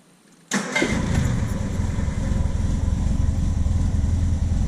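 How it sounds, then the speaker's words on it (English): A Triumph Spitfire engine fitted with a Weber carburetor cranks and fires up at once, then settles into a loud, steady, rumbling idle, recorded close with no talking. "let's see if it fires up good again"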